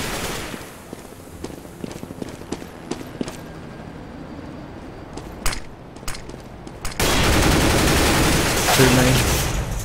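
Rapid gunfire and footsteps from the video game CS:GO, with a dense run of shots over steady game noise, then a louder sustained burst of fire and action near the end.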